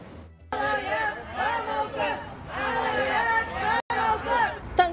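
A crowd of residents gathered outside the regional court, with overlapping voices forming a steady babble of chatter close by, briefly cut off once before resuming.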